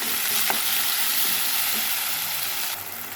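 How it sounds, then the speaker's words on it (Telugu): Chopped onion and green chillies fry in hot oil for a curry, giving a steady, loud sizzle that holds without a break, with a few faint clinks of a spoon against the pan. "కూరకు సరిపడా ఆయిల్ పోసుకొని ఉల్లిపాయ పచ్చిమిర్చి వేసేసాను."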